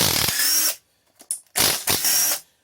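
A ratchet works 10 mm valve cover bolts loose on a Honda Rancher 350 engine, giving two close, loud bursts of rapid clicking separated by a short pause with a few small taps.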